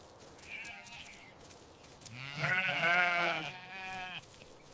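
Sheep grazing in a meadow give a faint short bleat, then a louder, longer quavering bleat nearby, with quiet outdoor background and no voices.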